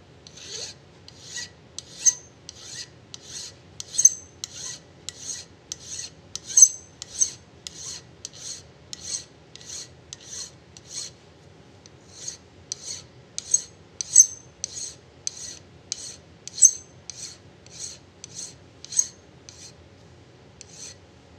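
Hand filing a steel socket head cap screw in a lathe workshop, a steady run of about thirty rasping strokes in two bursts with a short pause between, close and clear with no talk.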